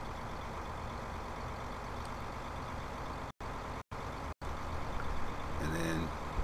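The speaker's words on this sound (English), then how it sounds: "Turn on the baler." Tractor pulling a baler in Farming Simulator 15, a steady low engine drone with machinery noise, broken by three brief dropouts and a faint rising whine near the end, with no talk.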